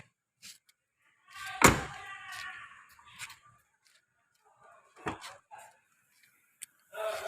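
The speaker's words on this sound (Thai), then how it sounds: "เดี๋ยวเราไปเปิดประตูด้านหลังดูกันดีกว่านะคะ" A Honda Jazz 1.5V from 2018 has its rear door opened, with a sharp latch clunk near the start and a softer thud later, both close by. Someone speaks around the sounds.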